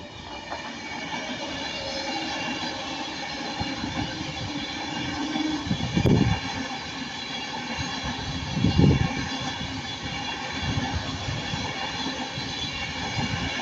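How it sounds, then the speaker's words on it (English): Pendolino passenger train passing at Ardwick, a steady broad rumble with rail noise that holds throughout and swells briefly twice as the carriages go by, no speech over it. "Then we have this Pendolino."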